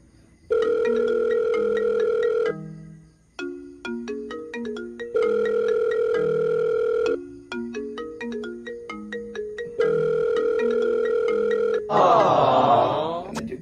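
A cellphone ringtone plays a repeating electronic melody loudly and close, cycling several times without being answered, ending in a burst of harsh noise.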